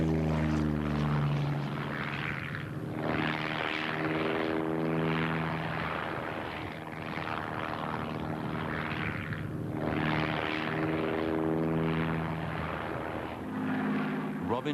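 De Havilland Chipmunk piston-engined aircraft climbing, a steady, loud propeller drone with a buzzing engine tone that swells and eases slightly throughout, with a voice talking over it.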